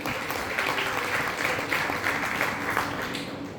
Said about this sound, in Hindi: जोरदार तालियां में चाहूँगा।